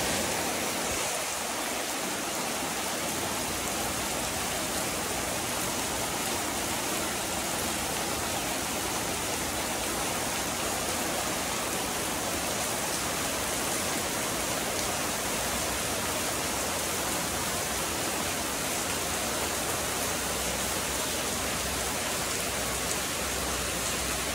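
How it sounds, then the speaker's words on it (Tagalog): Heavy rain pours down in a dense, unbroken hiss that stays loud and steady throughout, with no voices. "lakas ng ulan guys"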